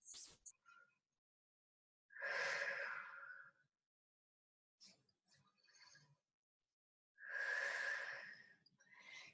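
Two deep breaths taken while resting in child's pose during a wall-based flexibility workout, each a long, soft, airy inhale-exhale heard close and quiet, separated by a stretch of near-silence with a few faint rustles.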